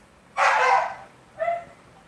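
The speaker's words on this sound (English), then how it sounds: "Jermaine, we got some jealous dogs." Dogs give two barks nearby, a longer loud bark followed a moment later by a shorter, softer one, in an otherwise quiet outdoor setting.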